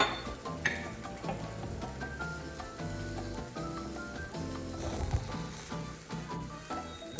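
Stewed beef sauce simmers in a pan with steady low sizzling and bubbling, a continuous soft cooking hiss that stays even throughout, with no talking.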